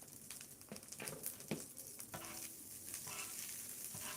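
Chopped onions sizzle and patter steadily in a hot pan while cooking for shrimp tacos, a soft continuous fry with a few brief stirring scrapes, close but fairly quiet.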